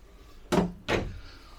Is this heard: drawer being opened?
yes